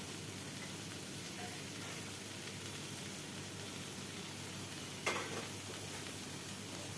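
Bottle gourd leaf stems frying with moong dal make a low, even sizzle throughout, with a single sharp scrape or clatter near the end and no talking.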